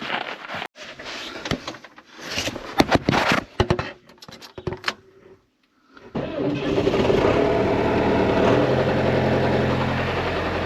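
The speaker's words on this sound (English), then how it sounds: "We'll start up the old John Deere." An old John Deere tractor on a cattle ranch cranks with a few sharp bursts and clanks, falls briefly silent, then catches and settles into a loud, steady, close-up diesel idle.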